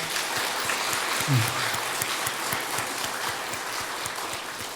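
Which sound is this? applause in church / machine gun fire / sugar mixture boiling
applause in church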